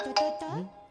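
A mobile phone rings with an incoming call, a short bright two-tone chime that rises and then fades, heard alone and close.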